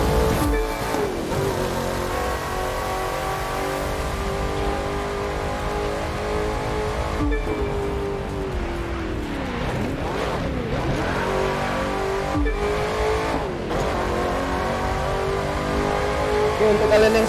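Race car engine from The Crew 2 racing game, a loud continuous roar with rising and falling revs and repeated shifts, with a person talking over it throughout.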